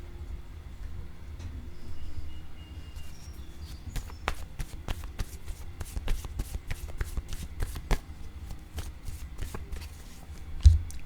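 Oracle cards being shuffled by hand, a steady run of soft papery riffles and flicks close up, continuing for several seconds with no voices.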